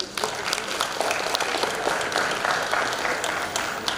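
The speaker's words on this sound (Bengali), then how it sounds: "সবার জন্য আমরা একটা করতালি দিতে চাই।" A crowd at a university computer science festival claps steadily for several seconds. The applause is dense and continuous, with a faint murmur of voices underneath.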